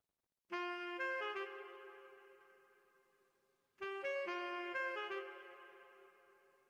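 A saxophone sample in LMMS has a volume automation track applied for a Melbourne bounce production. Two phrases each start loud and then fade steadily toward silence, and no one speaks.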